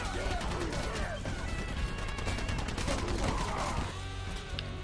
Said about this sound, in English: she could shoot people with her leg